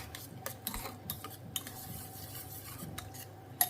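A spoon scrapes and stirs a spinach and paneer curry mixture in a pan, producing soft, irregular metallic scrapes and light clinks close by, with a few sharper knocks against the pan and no talking.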